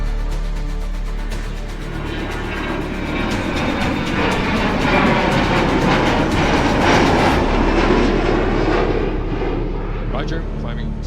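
Boeing 737 taking off, a loud roaring jet engine building and rising steadily over several seconds, with a narrator talking over it.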